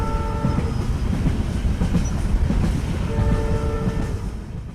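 Cartoon-style sound effect of a train running, a loud rumbling clatter of wheels on rails with sustained horn tones sounding at the start and again near the end.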